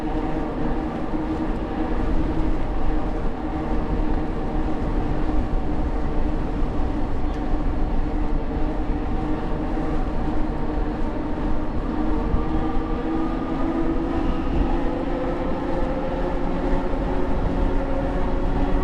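An electric bike motor hums steadily while riding into a headwind, its tonal whine layered over continuous loud wind buffeting and road roar, with the pitch sliding slightly as speed shifts.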